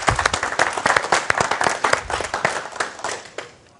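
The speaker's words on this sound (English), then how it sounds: "let's give her a big round of applause" A small audience claps for a participant, with distinct separate hand claps in a brisk, uneven patter, close and fairly loud, thinning out and fading away toward the end.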